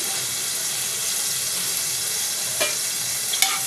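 White sesame seeds fry in a little oil in a pan, giving a steady, close sizzling hiss, with a couple of sharp clicks near the end as they are stirred.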